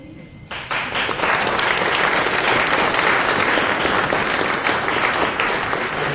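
Audience applause for Cristina Hoff Sommers at a university talk at UF: a quiet start, then a loud, sustained burst of many hands clapping that holds steady throughout.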